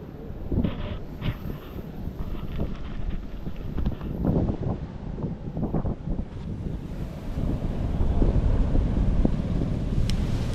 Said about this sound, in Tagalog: Lakas, grabe kasi yung hangin niyan dito.